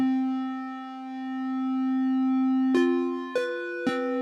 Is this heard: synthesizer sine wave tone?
yes